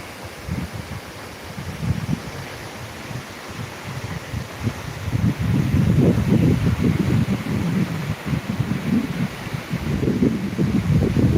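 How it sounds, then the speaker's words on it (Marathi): A steady, heavy roar of rushing floodwater in the Bindusara River at Beed, India, fills the scene, swelling louder midway and continuing without pause. "एक वेळेस पाण्याचा आवाज ऐकून घ्या"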